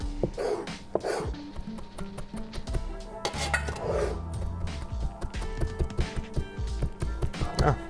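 Knife roughly chopping ingredients on a cutting board in a kitchen, a series of irregular close-up knocks and taps with occasional clinks.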